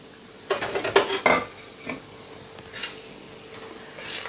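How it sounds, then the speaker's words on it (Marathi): Semolina roasting with ghee in a pan, a spoon clattering and scraping against the metal in a quick burst of knocks followed by softer occasional stirs, close and alone without voices. "छान असा खरपूस होईपर्यंत रवा आपल्याला भाजून घ्यायचा आहे"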